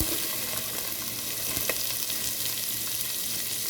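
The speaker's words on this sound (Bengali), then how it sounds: "এটার মধ্যে প্রথমে আমি বেরেস্তাটা ভাজবো" Sliced onions frying in oil in a pan for beresta, a dense, continuous close sizzle with a faint clink midway, with no voices.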